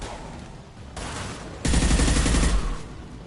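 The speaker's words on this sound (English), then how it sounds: "Firing a high-impact shot!" Heavy high-impact gunfire from a Mass Effect firefight, a burst of rapid loud shots that swells into a denser, louder volley before cutting off.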